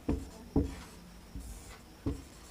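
Chalk or marker writing on a board while a Sanskrit letter is written out, four short scratchy strokes spaced irregularly, close and faint, with no talk over them.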